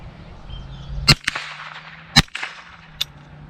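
A Bear Creek Arsenal .22LR upper fires MGM Popper ammunition: three sharp, close cracks spaced about a second apart, each with a short ringing tail over a faint background hum.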